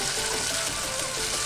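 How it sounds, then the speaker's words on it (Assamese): Sliced dangbodi, Assamese lentil dumplings, fry in a pan with green chillies and salt, giving a loud, continuous, dense sizzle that holds steady without pauses or voices. "এনেদৰে মই ভাজি থাকিম ডাংবডিখিনি।"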